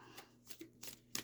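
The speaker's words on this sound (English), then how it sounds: "as I'm shuffling these cards" A small deck of oracle cards is shuffled by hand, giving soft, quick riffling bursts that are faint and close, with a sharper flick at the end.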